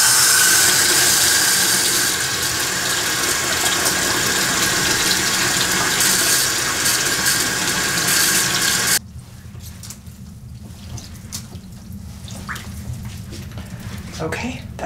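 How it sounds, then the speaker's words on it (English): A tap runs steadily into a sink being filled with water for washing raw sheep fleece, a broad continuous gush that cuts off abruptly partway, leaving quieter room sound and faint handling. "I want more water in there because more water gives more place for the lanolin to go."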